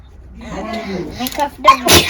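A person sneezes sharply near the end, preceded by soft voices talking nearby.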